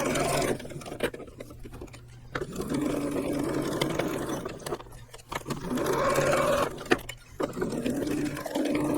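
Steady bursts of machine stitching on tree stand straps, a continuous whirring drone broken by brief pauses, close and fairly loud with no talking.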